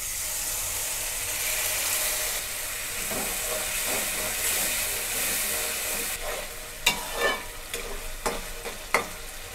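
Spice masala with salt and turmeric hisses and sizzles in a pan after a splash of water, cooked down for chicken kosha. The sizzle is a steady close hiss, with stirring scrapes and spatters in the later seconds.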